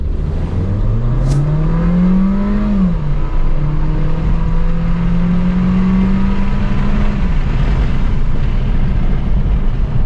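A Volkswagen Polo GTS with a sport air filter pulls hard in first gear with traction control off, the engine note climbing, briefly dipping at a shift, then droning and rising again, loud and close under constant road and wind roar.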